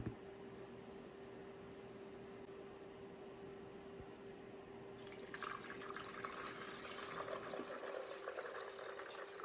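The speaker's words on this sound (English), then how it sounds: "pour the water in." Water is poured into a clothes iron, very quiet room tone at first, then a soft steady rush of liquid in the second half, close and alone without talk.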